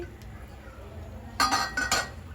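A metal lid is set onto a pan holding a poha dosa over a slow flame, giving two quick clinks close by over a faint background.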